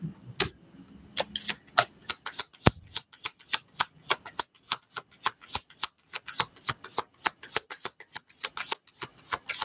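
A deck of playing cards being shuffled during a tarot-style card reading, giving a fast run of crisp riffling snaps and flutters that repeat steadily and close by with no talking.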